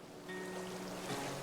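River or lake water in the Tainted Grail: The Fall of Avalon video game, a brief, soft, continuous washing and rushing of moving water with a faint tonal hum underneath.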